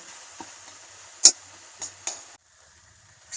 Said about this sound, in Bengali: এই জিনিসগুলোকে আমি ভালো করে নেড়ে চেড়ে একটু মিক্স করে নেবো।